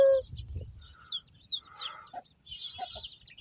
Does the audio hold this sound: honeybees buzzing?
no